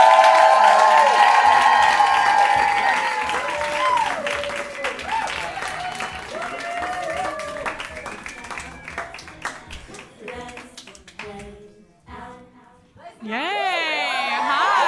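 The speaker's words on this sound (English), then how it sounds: "To have a big round of applause for Ellie Brigida and Leah Holmes Foster for Let's Hang Out!" A live audience at a podcast taping in a city venue breaks into loud applause and whooping cheers, with clapping and raised voices filling the room before the noise thins out.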